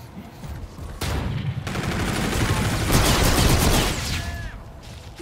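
Sustained rapid gunfire in the shooter Call of Duty: Infinite Warfare, dense automatic bursts rattling loudly for several seconds before tapering off.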